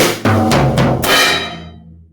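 A drum kit plays a short eighth-note beat, with close, loud hits at a steady pulse that build into a final crash cymbal ringing out and fading over the last second.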